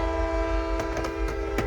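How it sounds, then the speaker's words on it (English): A train rolls past a junkyard with a steady tonal horn sounding over the rumble of its cars, punctuated by several sharp metallic clanks, loud and close. "I'll check back after this train goes by."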